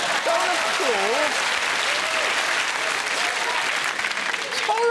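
Studio audience on a comedy news show applauds loudly and steadily throughout, with someone talking over the clapping and laughter.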